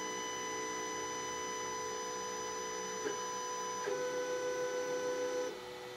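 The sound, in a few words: WanHao Duplicator 7 resin 3D printer homing its bed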